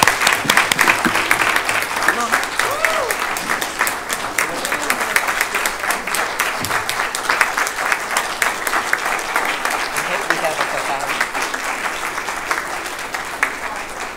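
Audience applause at a county board of education meeting, sustained clapping from a roomful of people lasting the whole stretch, fairly loud and even, with some voices mixed in.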